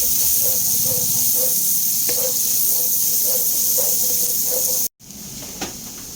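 Garlic sizzling in butter in a pan while seafood (mussels and shrimp) cooks, a steady close hiss running throughout with a brief cutout near the end.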